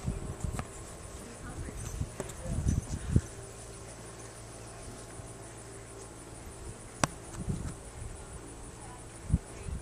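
Horses walk during a ride, their hooves giving scattered soft clip-clops among crickets and insects buzzing in the background, with a few sharp knocks and bursts of rustle.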